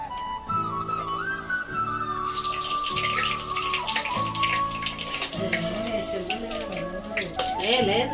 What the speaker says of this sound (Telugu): ఇవన్నీ వేయించుకుందాం.